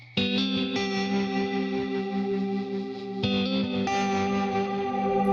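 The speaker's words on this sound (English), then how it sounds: "I'm turning on more of the bigger reverb. With all those together, it's going to kind of sound like this. I'm just kind of plucking through the chords." Electric guitar plucking through chords with heavy reverb and tremolo, its sustained notes washing together as a new chord is struck about every one to three seconds, loud and alone.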